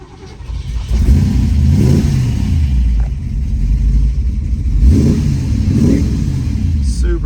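A 1966 Shelby GT350 V8 with a four-speed starts up, its low rumble swelling to a steady idle punctuated by several throttle blips that rise and fall close by; a voice briefly speaks near the end.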